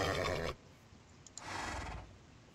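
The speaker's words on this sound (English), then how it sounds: "There's actually a horse around." Minecraft horse neighing twice: a loud, close whinny at the start, then a second fainter neigh after a short pause, with no talking.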